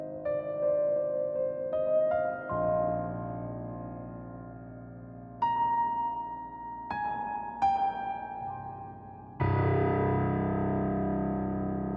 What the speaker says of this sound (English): Beautiful reverb on there.